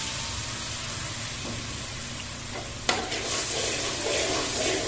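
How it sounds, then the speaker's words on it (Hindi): Milk hits browned semolina and hot desi ghee in a pan for sweet halva, setting off a sudden loud sizzle and hiss midway through a steady background of frying and stirring, close by and without speech. "अभी हम इसमें दूध डाल देते हैं।"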